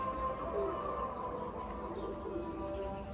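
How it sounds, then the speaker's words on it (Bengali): Soft coos of a small pigeon murmur close by under a steady background hum, with a few faint chirps mixed in. "এটা একদম ছোট্ট একটা সাইজের একটা কবুতর"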